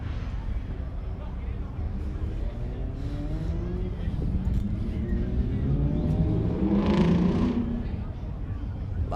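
Car engine revving hard at a drag strip while the car waits at the starting line, a loud rising roar over crowd noise and other running cars nearby.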